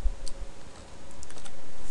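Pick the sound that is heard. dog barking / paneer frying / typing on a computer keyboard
typing on a computer keyboard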